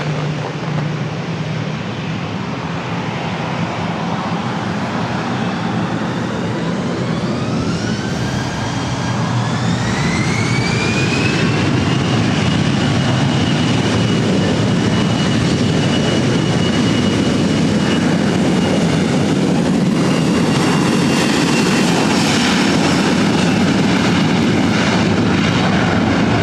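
Delta airliner taking off from runway 24 right at LAX, a loud sustained jet engine roar with a rising whine that climbs in pitch then holds steady, filling the whole stretch.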